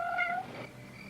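A single short, fairly faint meow from a hungry cat, rising and then trailing off, heard alone in a quiet room.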